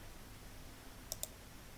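Two crisp computer mouse clicks a fraction of a second apart while selecting merge and center in an Excel spreadsheet, close and faint against a quiet room hiss.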